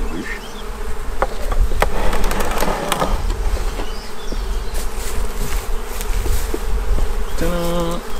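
A dense swarm of honeybees buzzes loudly and continuously at close range while being moved into a new hive, with scattered knocks and clicks of handling mixed in.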